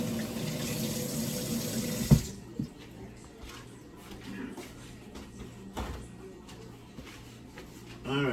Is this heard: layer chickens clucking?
no